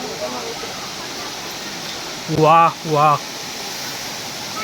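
Water drops about 30-40 feet at the Murga Mahadev waterfall, a steady broadband rush heard from close by, interrupted twice by a voice.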